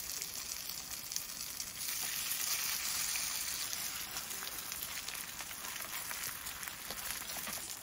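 Vegetable pancake batter sizzling in a heated frying pan, a steady crackling hiss that grows louder after a couple of seconds and continues evenly at close range.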